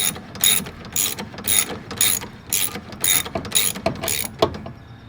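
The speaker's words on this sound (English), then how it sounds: "You can even use a short stubby ratchet so that you don't put too much tension on it." Ratchet wrench turning while replacing a serpentine belt on a 2011 Hyundai Sonata/Elantra 1.8 liter engine, about nine rapid clicking ratchet strokes in a steady rhythm, close and loud.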